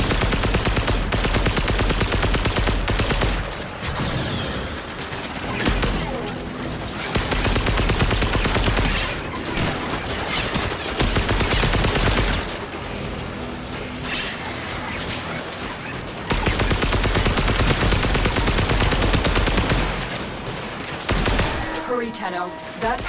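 Sustained bursts of weapon fire from the video game Warframe during a Fomorian assault, loud and dense with brief gaps, mixed with game sound effects and voiced lines.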